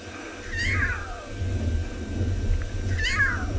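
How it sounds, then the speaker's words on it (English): Mother wild cat in the African wilds gives two strained, rising-then-falling wailing calls to her cub, spaced a couple of seconds apart over a low rumbling background. "that is the call of desperation with the cub."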